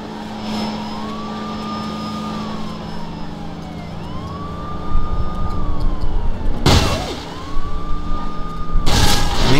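Police car siren in the video game True Crime NYC, a rising and falling wail repeating over steady engine and traffic noise, with sharp bursts of gunfire or crashes near the end.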